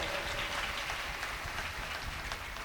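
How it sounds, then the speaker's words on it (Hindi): An audience gives a welcoming round of applause to a performer at a devotional gathering. The clapping is soft and distant, a steady wash of many hands with no talk over it. "एक बार जोरदार ताली से एक बार सब स्वागत करो भाई।"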